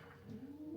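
Snow Prince and McFadden pigeons cooing in a breeding loft, a steady, soft, low throaty cooing that continues throughout at close range, with no talking.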